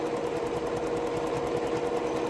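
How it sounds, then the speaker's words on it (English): Sewing machine running steadily as it stitches an embroidery stitch along a towel edge over tearaway stabilizer, a continuous close, even mechanical whir with no pauses. "So I'm just going to go all the way to the other edge with this embroidery stitch."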